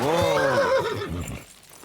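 A horse in the Kingdom Come: Deliverance II video game gives one loud, close neigh, a wavering whinny that fades out toward the end.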